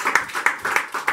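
A church congregation claps together in steady rhythmic applause, bursts repeating about every third of a second, close and lively, with no voices standing out.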